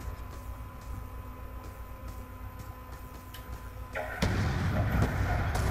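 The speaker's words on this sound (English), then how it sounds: "just a random explosion beneath me" In a Call of Duty Black Ops 2 match, a sudden loud explosion bursts out near the end after several seconds of quiet ticking game ambience, its rumble sustaining to the close.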